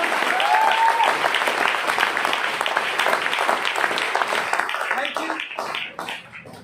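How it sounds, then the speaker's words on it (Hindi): Loud, dense applause from a crowd honouring Mr Vipin at an AWPL gathering, steady for several seconds with a brief tonal whistle early on, thinning toward the end. "मैं चाहता हूं मिस्टर विपिन सर के लिए अब तक की सबसे जोरदार ताली होनी चाहिए।"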